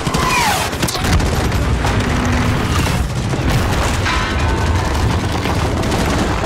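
Loud in-game dynamite blast in Call of Duty Modern Warfare (2019), a sharp boom with a long rumbling tail, mixed into dense continuous gunfire and battle noise throughout.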